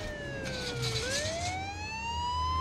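A police car siren wails during a chase, its rising and falling tone sweeping loud and close over the rumble of traffic, with no voices.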